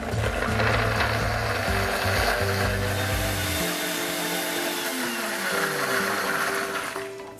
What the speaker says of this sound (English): Now we're just gonna puree it until it's nice and smooth.